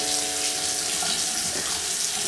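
Tap water running steadily into a sink while a face is washed, a constant close hiss and splash with small shifts as hands move under the stream.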